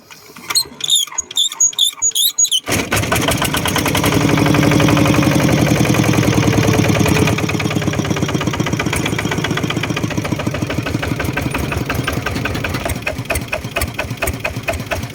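A Kubota ZT155 diesel tractor engine idles at low revs with a steady, rapid knocking rhythm after a few sputtering start-up beats, close and loud throughout.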